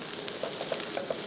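Meat sizzles and fries steadily in a pan over a medium flame for paneer shami kabab. The close, continuous crackle carries a few soft stirring clicks, with no talk.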